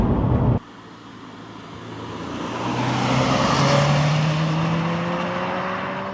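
A Subaru Impreza WRX Spec C rally-bred sports car drives through corners, its engine note dropping sharply then climbing steadily in pitch and loudness as it accelerates out, a continuous near roar with road and wind noise.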